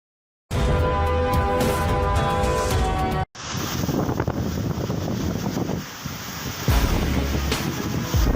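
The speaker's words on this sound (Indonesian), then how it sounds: "Berlaku angin kuat" Strong storm wind sweeping through Malaysia, a loud, continuous roaring rush with buffeting gusts and a surf-like wash. The sound cuts off briefly before resuming just as forcefully.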